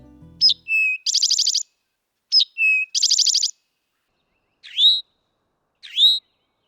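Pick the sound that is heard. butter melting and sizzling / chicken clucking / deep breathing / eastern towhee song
eastern towhee song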